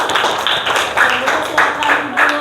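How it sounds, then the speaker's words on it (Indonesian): A classroom group claps for a drama group, a short burst of quick, close clapping from several people with a voice speaking over it. "Oke, sekali lagi kita kasih tepuk tangan buat kelompok drama."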